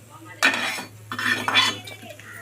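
A spatula stirs coriander seeds and peanuts as they dry-roast in a pan, giving close bursts of rattling and scraping over a low, steady hum.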